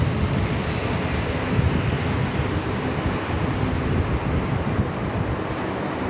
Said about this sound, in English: The Cathay A350, just on the roll here on runway 34 left.